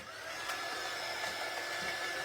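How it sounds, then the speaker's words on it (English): A hair dryer blows steadily and close at hand during a wax craft session, a continuous broadband airy whoosh that carries on unbroken without any talk. "I'm going to hit that a little bit longer with the dryer."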